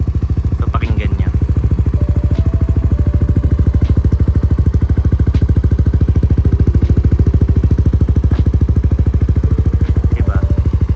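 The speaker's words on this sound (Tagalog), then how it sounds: "Idle sound nung JVT na version 3 na naka half open. So pakinggan niya." A Yamaha NMAX V3 scooter idles with a JVT version 3 exhaust set half open, giving a steady, close, rapid low thumping pulse that holds evenly throughout, with a few faint light sounds over it.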